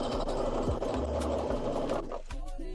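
A sewing machine stitches a sweatshirt, its rapid needle chatter and motor whir steady and close for most of the stretch before slowing and stopping near the end.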